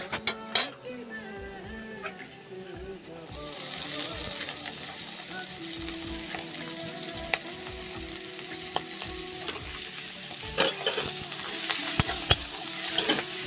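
Shrimp fries with drumstick leaves in a pan for a Bengali chorchori, a steady sizzle underneath as a utensil scrapes and taps against the pan in irregular stirring strokes.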